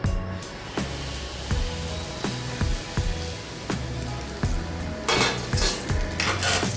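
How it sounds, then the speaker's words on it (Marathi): Hot oil is poured over a mixture of wheat flour, gram flour, salt, fennel and dry ginger powder, giving a steady crackling sizzle punctuated by regular low thumps, with a brighter burst of hissing toward the end. "आता आपण याच्यावर घालूया मी हे गरम केलेलं तेल"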